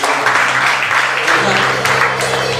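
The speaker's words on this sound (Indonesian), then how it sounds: "Beri tepuk tangan lagi saudara." A church congregation at a Sunday worship service claps in sustained, dense applause that fills the room evenly from start to finish, with no voices rising above it.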